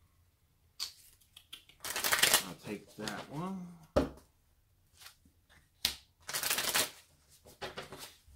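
Playing cards are shuffled in a few quick riffling bursts at a tabletop board game, close and crisp, with people talking briefly between the shuffles.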